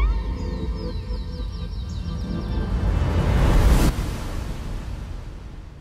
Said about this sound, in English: I carry through a lot of that silence with a long reverb tail